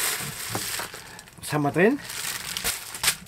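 Packaging material crinkles and rustles loudly up close as a parcel of gold and silver is unpacked, with a short spoken question partway through the handling noise.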